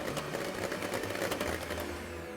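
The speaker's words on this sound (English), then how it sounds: "Get your mixer back in there, give it a quick whisk." Electric mixer whisking a melted dark chocolate and butter mixture, a soft, steady rattling whir at low volume, heard alone throughout.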